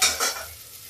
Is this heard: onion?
yes